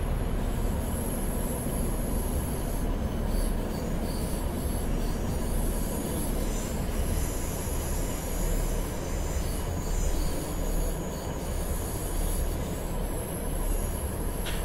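Class 150/2 diesel multiple unit in Train Simulator 2015 on the Liverpool to Manchester line, easing its brakes into a speed restriction: a steady, loud rolling rumble with faint high wheel squeal running throughout, no voices.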